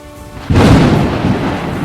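Thunder cracks and rolls loudly in a rain-soaked storm that interrupts a cricket match, a sudden heavy boom breaking over steady rainfall and then rumbling on.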